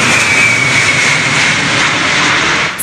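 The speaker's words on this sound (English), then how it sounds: "Looming above homes, this giant of the sky descends on Perth's International Airport." An Antonov AN-225 six-engine cargo plane descends over homes toward Perth International Airport, a loud continuous jet roar that holds steady throughout, with a faint whine running above it.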